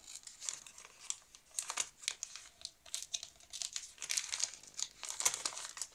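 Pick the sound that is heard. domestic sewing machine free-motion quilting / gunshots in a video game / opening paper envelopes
opening paper envelopes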